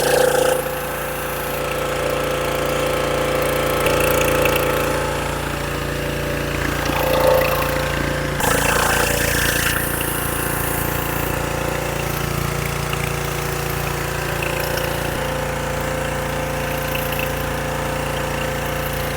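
A pressure washer with a MEKOH foam cannon runs steadily, a loud, continuous motor drone with a hissing spray whose tone shifts partway through.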